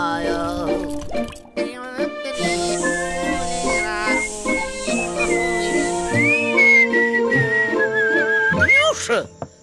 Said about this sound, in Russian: ты же опять свистишь